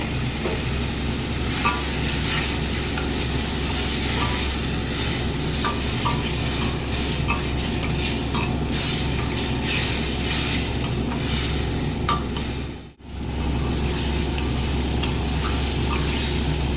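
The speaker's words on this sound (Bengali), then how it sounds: "সামান্য জল দিয়ে ভালো করে ভেজে নেব" Cumin and chilli powder fry with a little water in a pan, giving a loud, continuous sizzle with soft stirring scrapes and a brief dropout near the end.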